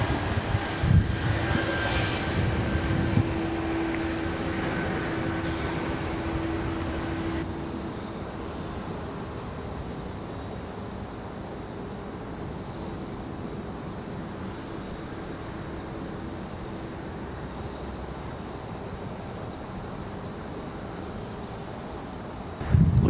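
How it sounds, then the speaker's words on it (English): Airliners wait for departure at Raleigh-Durham International Airport, their engines giving a steady distant idling roar and hum that starts a little louder and then settles into an even drone for the rest of the stretch. "we got a couple sitting out there waiting for departure."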